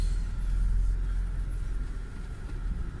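A 2019 UAZ Patriot SUV rolls downhill off-road with a steady low engine rumble and vehicle drone, heard close from inside with no talking.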